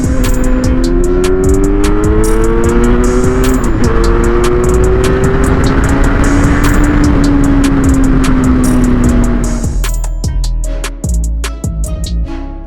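Kawasaki Z900 motorcycle with an ECU flash tune revving at full throttle, its loud engine note climbing through the gears before backing off into sharp crackles and pops near the end.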